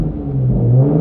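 Exhaust of a 2019+ Toyota Supra with a BCP tune, idling in normal mode with a low, steady burble, close and fairly loud for about a second.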